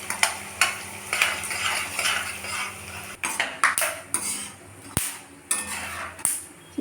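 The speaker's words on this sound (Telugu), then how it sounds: "ఇవి కూడా గోల్డెన్ కలర్లో వేగాలండి. అన్నీ నేతిలోనే వేయించుకోవాలండి." Melon seeds tossed and stirred in ghee in a metal pan, a steady scraping and clinking of a spoon against the vessel with soft frying hiss beneath and a few sharp metallic taps, no talking.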